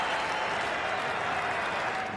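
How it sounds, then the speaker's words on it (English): Steady applause from the crowd at the Perth cricket Test for batsman Mike Hussey walking off after his century, a dense, continuous patter of clapping at even volume throughout. "Getting very well applauded off the ground"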